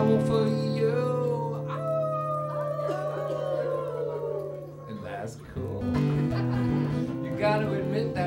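Several voices join in a drawn-out, dog-like howl, people imitating a howling dog in a musical performance setting, sustained and fairly loud with a wavering pitch and a brief dip partway through.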